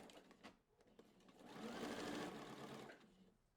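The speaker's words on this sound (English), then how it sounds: "pop on over to your sewing machine and close the hemline up to the vent" Sewing machine stitching the hemline of a coat up to the vent, a quiet buzzing run that builds for about two seconds before easing off, with light handling sounds around it.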